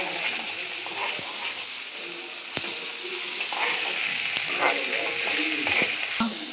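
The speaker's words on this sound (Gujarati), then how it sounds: "ડુંગળી ટામેટાનો વઘાર થઈ જાય, ગ્રીન કલર થઈ જાય તે સુધી હલાવી દેવાનું।" Onion and tomato tempering sizzles and fries steadily in a pan, with a continuous hiss and several sharp scrapes and knocks of a spoon stirring against the metal.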